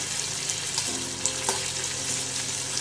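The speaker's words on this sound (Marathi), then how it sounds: "आता आपण यात कापलेला कांदा घालून घेऊ। कापलेला कांदा छान असा परतू द्या" Chopped onion sautéing in oil for a bitter gourd curry, with a steady close sizzle and a few scrapes of a spoon stirring through the pan.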